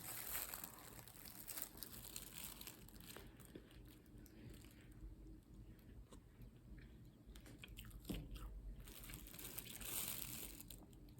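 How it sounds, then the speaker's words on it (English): Someone eating a cinnamon donut, with soft close bites and chewing over faint room noise, quiet and intermittent. "Oh yeah, cinnamon donut time."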